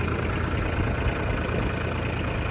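A Kubota B2601 compact tractor engine idles steadily up close during a big snowstorm, a constant low rumble with no other sounds.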